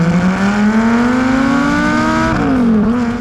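A sports car engine pulls hard and close while driving, its tone climbing steadily through the revs before a brief dip at a gear change and a further rise.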